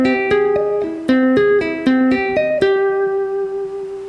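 An electric guitar plays a multi-finger tapped riff in 13/8, a quick sequence of clear, sharply attacked notes in an uneven repeating rhythm that ends on one sustained ringing note.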